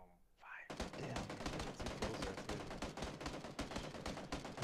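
Rapid, sustained automatic gunfire in PUBG starts abruptly after a short quiet moment, with loud, dense shots rattling on without pause for several seconds.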